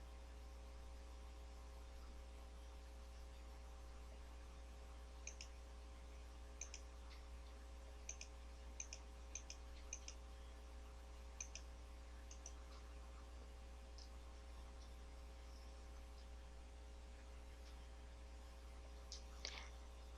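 Faint, sparse computer mouse clicks, scattered singly and in small clusters while data-mining software is operated, over a low constant electrical hum with no talk.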